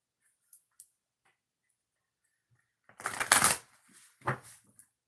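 Oracle cards being shuffled and cut by hand during a live reading, a couple of faint early taps followed by a louder burst of riffling and a second short shuffle, close and alone.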